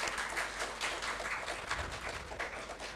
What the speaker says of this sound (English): Could we have a round of applause for all of them?